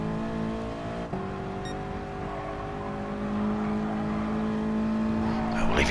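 A group of cars races past in a steady droning rush of engines, with one sharp knock early on and a rising whoosh as the pack closes in near the end.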